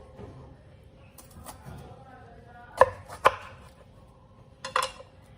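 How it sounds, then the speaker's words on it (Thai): A few sharp knife chops strike a cutting board while a bitter melon is halved lengthwise, spaced apart, close and crisp against quiet room noise with faint murmuring. "แล้วก็หั่นครึ่งตามแนวยาวอย่างเงี้ยค่ะ"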